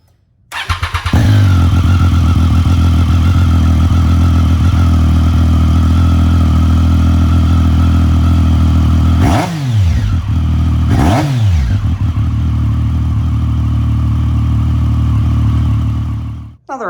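A 2015 Triumph 675 Street Triple R motorcycle with an Aero aftermarket exhaust starts up and settles into a loud, steady idle, then gets two sharp throttle blips that rise and fall back. Close by, with no talk.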